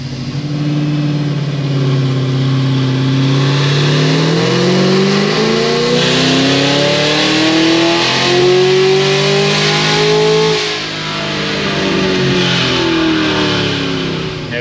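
A car revs through repeated dyno pulls on an E-blend fuel, the engine note climbing steadily in pitch, dropping back and sweeping upward again, loud and close throughout.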